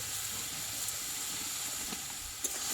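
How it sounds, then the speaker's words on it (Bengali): Red amaranth greens stir-fry in a pan with a little sugar, giving a steady, close hiss throughout, with a single sharper tick near the end. "এবার এই চিনিটা দিয়ে আমি শাকটাকে কিছুক্ষণ নাড়াচাড়া করে ভেজে নেব"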